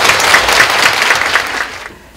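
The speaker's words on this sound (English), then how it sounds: "Please welcome the Chief Justice McLachlin with applause." A lecture hall audience at a university law school talk on gender equality applauds to welcome the Chief Justice, with loud, dense, steady clapping that fades out toward the end.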